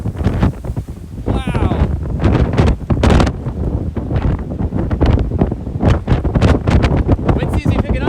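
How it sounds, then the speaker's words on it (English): Strong wind gusts buffet the microphone beside a frozen, ice-covered lake in West Michigan during snow squalls, roaring loud and close throughout with a brief exclamation from a person. "Wind seems to be picking up a little bit."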